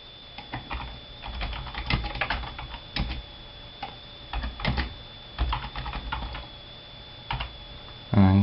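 Typing on a computer keyboard while naming a letter set in writing software: bursts of quick, close key clicks with short pauses between, ending on a louder clack.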